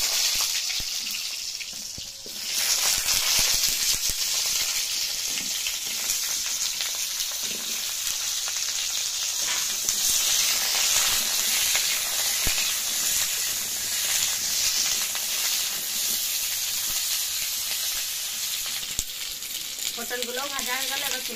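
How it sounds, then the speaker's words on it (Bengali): Pointed gourd (potol) frying in oil in a village kitchen makes a steady, loud hiss and sizzle that runs almost without pause, with a sharp burst of bubbling just after the start and a few light clinks near the end. "এবারে পটল কটা ভেজে নেব।"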